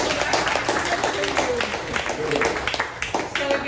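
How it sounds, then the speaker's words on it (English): Audience applause for author Michael Solis at a book event, a dense round of clapping hands close by, with people talking over it. "I think that we owe Michael another applause"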